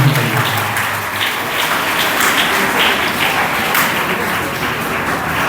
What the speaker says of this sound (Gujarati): એક વખત જોરદાર તાળીઓથી આ તમામ ઉદાર દિલ દાતાઓને આપણે અભિનંદન કરીએ.